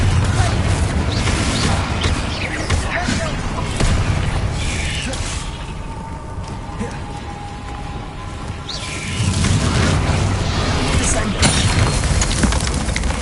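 Confringo and Bombarda spell blasts in the video game Hogwarts Legacy give dense, continuous booming explosions and whooshes, loud throughout, with a brief quieter lull in the middle before the blasts surge again.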